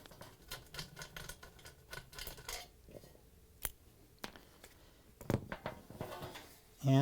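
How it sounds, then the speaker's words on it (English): A square-bit screwdriver backs screws out of a Hotpoint dryer bearing retainer part, giving faint close clicks and light metallic taps in scattered bursts, ending in a louder clunk. "we're removing this 4 screws using that screwdriver with a square 2-bead"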